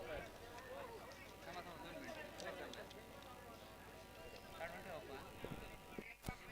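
Bullocks hauling racing carts thunder along the track of a village race at Barad, their hooves clattering steadily under loud, continuous commentary over a public address system and the noise of the crowd.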